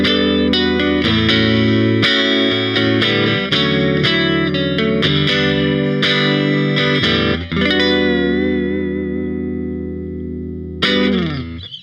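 A Fender Jaguar electric guitar on its neck pickup runs through effects, playing loud, sustained chords and notes with distortion and a chorus-like shimmer. A long note rings out and fades before a final strum.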